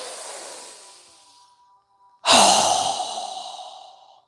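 A strong exhale during a guided breathing exercise: a soft fading breath, a brief pause, then one loud, close, forceful rushing exhale that tails off slowly, with no talking.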